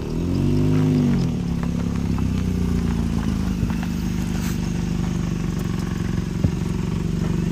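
A 2010 Ford Transit Connect XLT engine runs at idle, a steady close hum that surges briefly at first and then settles, with a few small clicks and knocks.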